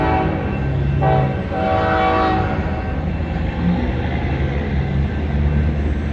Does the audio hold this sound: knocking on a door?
no